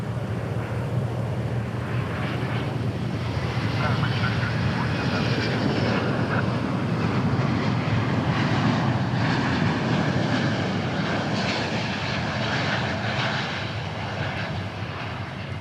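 A heavy Finnair jet airliner at DFW Airport roars steadily and loudly throughout, a broad sustained engine rumble with wind buffeting the microphone as it passes close by.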